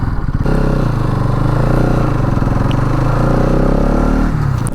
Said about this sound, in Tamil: வண்டி ஸ்டார்ட் ஆகிடுச்சுங்க.